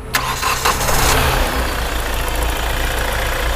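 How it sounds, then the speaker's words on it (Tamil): A ten-year-old Hyundai i20 Magna 1.4 CRDi diesel engine cranks briefly and catches, then settles into a steady, low diesel idle close by, with no voices. "ஸோ எப்படி இருக்குது இந்த டீசல் இன்ஜின்றதை நம்ம ஸ்டார்ட் பண்ணி பார்ப்போம்"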